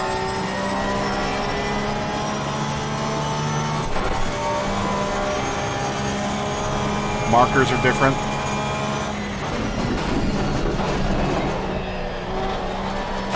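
A Porsche RSR race car engine drones steadily on the Nürburgring Nordschleife in a racing game, a continuous tonal whine that shifts pitch around gear changes, with someone talking over it.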